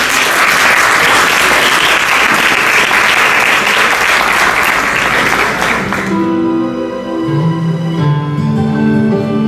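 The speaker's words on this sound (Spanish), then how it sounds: "La recibimos con un fuerte aplauso" Loud, dense applause fills a hall as an audience welcomes an artistic performer, steady for about six seconds before cutting off into sustained music.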